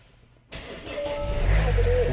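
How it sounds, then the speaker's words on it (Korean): After a brief quiet moment, an SUV engine cranks and catches in cold weather, settling into a rough, rising idle that stays close and steady. "시동 한번 걸려, 걸어보겠습니다. 한랭시입니다."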